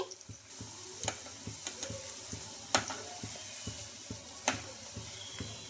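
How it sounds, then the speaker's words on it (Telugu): Puffed rice (murmura) vadas fry in hot oil with a steady, soft sizzle, broken by regular light clicks and taps of a utensil in the pan. "లో ఫ్లేమ్లో పెట్టుకొని ఫ్రై చేసుకోవాలండి అప్పుడే మనకు లోపల వరకు బాగా క్రిస్పీగా ఫ్రై అయిపోతుంది"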